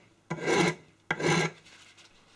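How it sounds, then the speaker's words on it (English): A small, fine round file rasps across a cast metal handle in two long, even strokes with brief pauses between, and a third stroke begins at the end; close and alone. "finish it off with this small, finer round file"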